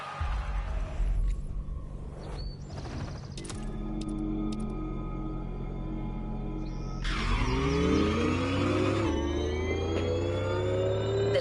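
A Bugatti driven in The Crew Motorfest, engine humming steadily and then climbing in pitch through rising revs and gear changes, loud and close, with no talk.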